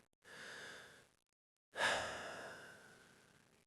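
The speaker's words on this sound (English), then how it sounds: "Take a deep breath with me." One slow, soft inhale followed after a pause by a longer, fuller exhale: a calm deep breath, close and quiet with no other sound.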